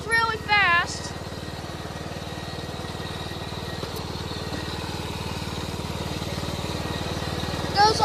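A pulley-swapped riding lawnmower engine runs hard and steady at full power, a loud close buzzing drone with a brief rev at the start and end, and voices speak over it.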